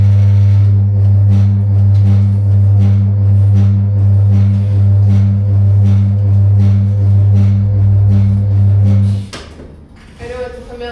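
A classroom model of an induction motor running with a steady, loud low hum and rhythmic churning like a washing machine, which stops near the end as quieter room sounds follow.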